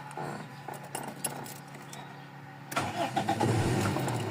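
A Toyota 4AFE engine with low power, black smoke and an idle issue cranks and fires up partway through, settling into a close, steady rumble after a few seconds of quieter shuffling.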